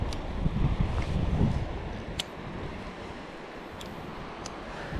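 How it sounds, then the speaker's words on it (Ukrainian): Steady wind buffets the microphone outdoors by a river while winter fishing, a rough continuous rumble that swells early and then settles, with faint distant clicks. "Тут мені прям вітер в лице дує, не дуже комфортно."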